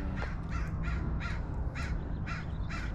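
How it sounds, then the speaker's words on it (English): Several crows caw in a cemetery, giving a run of about seven harsh, evenly spaced calls over steady background rumble. "I think those are crows."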